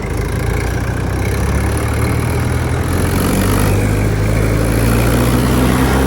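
A Mahindra tractor engine runs steadily, loud and close, a dense continuous diesel rumble with no speech over it.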